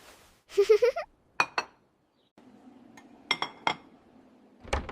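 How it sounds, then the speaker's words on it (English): Dishes and cutlery clink while being washed in a kitchen, with a few separate sharp clinks and short clusters of clatter spaced out by quiet gaps. "I wash the dishes. I dry them well."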